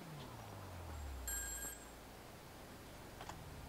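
A payphone rings in the video game GTA V with one short electronic ring burst, fairly faint over a low background hum and some game ambience.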